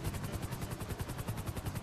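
A helicopter in the video game GTA V: fast, even rotor chopping that pulses loud and close in an unbroken rhythm, with no other sound over it.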